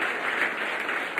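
Congregation at a church anniversary service applauding for their pastor, a dense, even burst of clapping that fills the short moment without pause, no one speaking over it.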